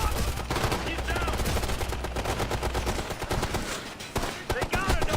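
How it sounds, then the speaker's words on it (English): Sustained automatic fire from a light machine gun in a Ghost Recon firefight, a dense rapid burst running through most of the stretch with brief gaps near the end and shouted voices mixed in. "Light machine gun, watch!"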